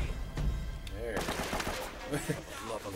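Rapid gunfire bursts from a firefight in the video game Uncharted: Drake's Fortune, sharp repeated shots mixed with game effects and voices throughout, with a rising tonal sweep near the middle.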